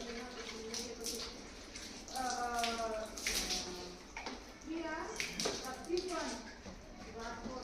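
Water splashing and running while a scooter is washed, a steady wet spray and trickle heard close under a person talking throughout.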